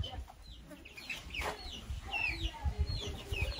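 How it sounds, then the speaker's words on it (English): Chickens cluck and squawk intermittently nearby in a farmyard, with short rising calls scattered over low rustling and light background noise. "These are the chickens?"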